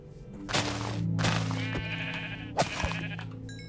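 Sheep in a Minecraft survival world bleat several times in quick succession, wavering tremulous calls that are close and clear over a low steady game hum, with a couple of soft thuds between them.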